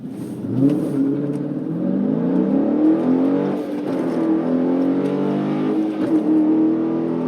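A 2019 Dodge Challenger R/T Scat Pack Widebody with a manual gearbox accelerates hard, its loud, close engine climbing steadily in pitch through several gear shifts over about seven seconds, with no talking.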